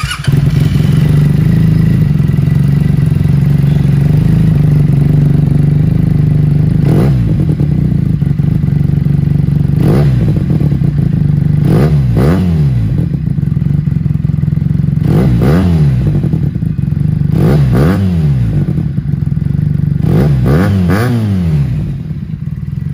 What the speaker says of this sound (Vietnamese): Nghe quả bô tê tái lòng người anh em ạ.